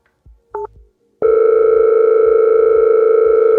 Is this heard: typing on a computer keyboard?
no